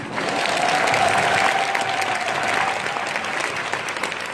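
A seminar audience in a hotel ballroom in Incheon claps steadily for a few seconds, a full, even wash of applause with no talking.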